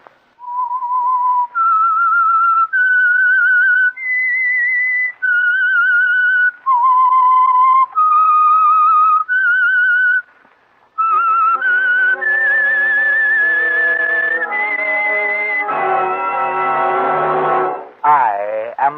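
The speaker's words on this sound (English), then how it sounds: "That whistle is your signal," A whistled theme signal for The Whistler radio drama: a lone, clear whistled melody of stepped rising and falling notes, loud and close, then giving way to fuller, denser musical tones near the end.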